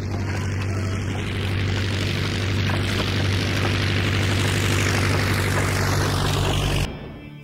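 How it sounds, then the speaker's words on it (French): Propeller aircraft engine revving up for takeoff as a comedy sketch effect, a loud steady droning roar with a strong low hum that builds slightly, then cuts off abruptly near the end. "commencez à pédaler, nous allons décoller."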